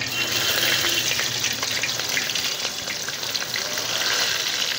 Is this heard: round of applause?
no